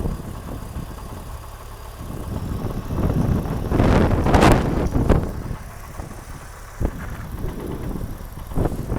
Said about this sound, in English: let's get a look, listen to that engine,